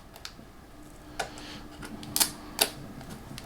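A small tab pulled on a cardboard box holding an Amazfit Neo smartwatch gives a few sharp clicks and tearing snaps, two of them louder near the end, close up in a quiet room.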